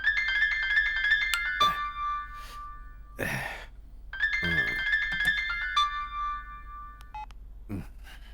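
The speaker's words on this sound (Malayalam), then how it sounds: "വിനോദ് ഫോൺ എടുക്കടാ." A mobile phone ringtone rings in a tense Malayalam film climax scene: a bright electronic melody plays twice with short gaps, separated by a breathy sigh and faint thumps, fairly close and clear.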